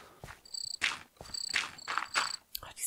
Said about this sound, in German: Ach, diese Grillen, ey.